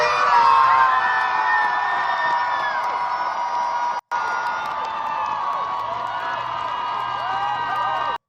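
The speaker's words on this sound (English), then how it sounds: "Denver Pride crowd reaction to Maylot Kuros could be heard from miles away" A large Denver Pride crowd cheers and whoops for Maylot Kuros, a loud sustained roar with rising shouts that cuts out briefly once before the cheering continues at full strength.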